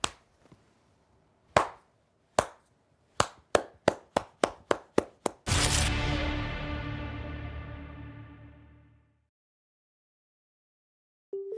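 A lone person gives a slow clap: a few sharp, widely spaced claps that gradually speed up, followed by a loud burst with a long ringing tail that fades into silence.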